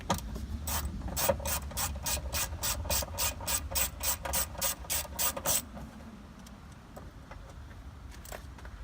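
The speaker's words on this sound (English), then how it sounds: "Got an interior clip remover, so I'm going to pop it off." An interior clip remover works at a Silverado or Sierra truck door lock, producing a fast run of sharp ratcheting clicks and scraping for about five seconds, then a few isolated faint clicks.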